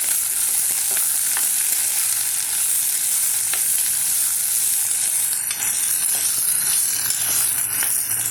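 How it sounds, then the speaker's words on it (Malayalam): Jackfruit thoran being stirred in a hot pan, a steady broad sizzle of frying with scattered scraping and clicking stirs throughout, close and fairly loud, no voices. "നമുക്ക് ഇളക്കി കൊടുക്കും"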